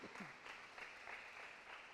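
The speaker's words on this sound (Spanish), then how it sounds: "¿por qué no le das un fuerte aplauso al Señor?" A church congregation applauding during a Sunday service gives a faint, steady wash of clapping that rises and falls in soft pulses.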